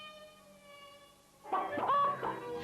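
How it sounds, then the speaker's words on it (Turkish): After a faint steady tone, a cartoon chicken clucks in a short burst of squawky calls from a 1939 animated film, moderately close and clear. "Küçük tavuk gıdaklamasını deniyordu."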